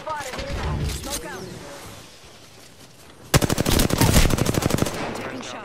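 Rapid automatic gunfire from the video game Apex Legends, a dense burst of close, loud shots in the second half, following a stretch of game noise with voices talking.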